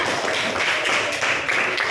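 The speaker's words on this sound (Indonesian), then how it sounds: "beri tepuk tangan buat dia di sana." A classroom of students claps their hands together in a steady, dense burst of applause that runs unbroken for the whole moment.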